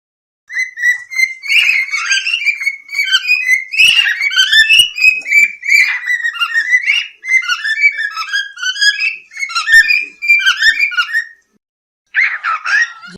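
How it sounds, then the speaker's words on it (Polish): A pet cockatiel whistles a run of clear, warbling melodic phrases, close and alone, in several bursts separated by brief pauses. "Czasami samce można nauczyć gwizdania prostych melodii, ewentualnie wypowiadania pojedynczych słów."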